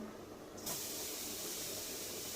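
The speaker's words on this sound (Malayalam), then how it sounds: "തേങ്ങ വറുക്കാൻ തുടങ്ങുകയാണ്" A steady, fairly quiet broadband hiss from grated coconut roasting in a frying pan, beginning abruptly and then holding constant without any talk.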